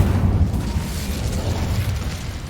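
Incendio fire spell from Hogwarts Legacy, a loud, dense roaring blast that rumbles on without a break for a couple of seconds.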